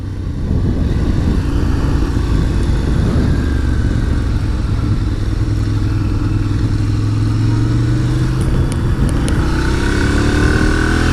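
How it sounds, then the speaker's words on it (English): A car engine revs and drops unevenly through a series of clumsy, jerky gear changes, a steady close drone with rising and falling pitch and no talking. "I'm still getting the swing of shifting, and just not the greatest at it, as you can hear"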